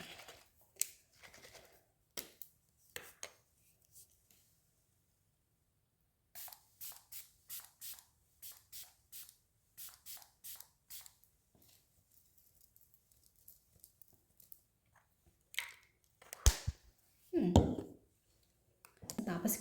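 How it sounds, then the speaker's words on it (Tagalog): Hairspray sprayed onto hair, heard as a series of short, close hissing bursts, some single and some in quick runs, separated by quiet gaps, with a few louder handling knocks near the end. "Mag-spray pa ulit."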